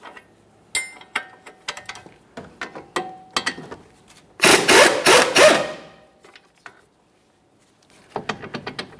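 A ratchet loosens a strut mounting bolt on a 2014-2019 Toyota Corolla, with bursts of rapid clicking, a louder sustained run of ratcheting in the middle, then a pause and more quick clicks, close up.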